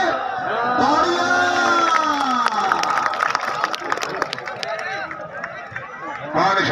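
A crowd at a plastic volleyball match in Bhakkar cheers and claps steadily and loudly throughout, with shouts and whoops rising over a dense layer of voices and commentary.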